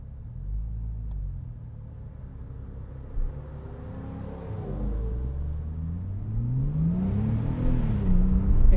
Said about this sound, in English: Instant acceleration,